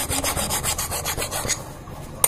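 Rhythmic rubbing strokes scrape across the tips of a motorcycle's gear shift centres, a close, steady rasping repeated several times, ending with a small sharp tick.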